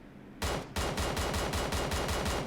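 Gunfire in the video game PUBG Mobile: after a brief quiet lead-in, a single loud shot is followed by a sustained burst of rapid, evenly spaced automatic fire, heard close and alone.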